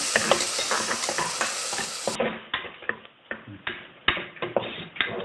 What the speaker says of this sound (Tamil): லைட் ப்ரௌன் இருந்தோடனே நம்ம இஞ்சி பூண்டு பேஸ்ட் போட்டுடலாம். போட்டு நல்லா ஸ்மெல் போகிற வரைக்கும் நல்லா வதக்கி விட்டுக்கோங்க